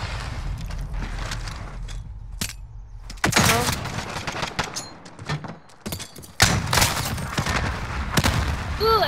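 Grenade explosions and gunfire in a first-person shooter, with loud sharp blasts and booms punching through scattered shots and background rumble.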